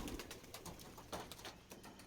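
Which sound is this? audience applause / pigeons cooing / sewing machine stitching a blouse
pigeons cooing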